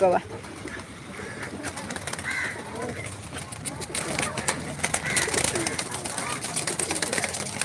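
Caged pigeons coo and flutter close by, mixed with crow caws and other birdsong; the chatter grows busier toward the end, with no clear speech.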